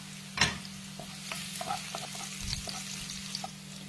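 Ginger and garlic hit a hot pan for a shrimp, misua and patola soup and sauté with a soft sizzle, a sharp clatter near the start and light stirring taps after, close and fairly quiet.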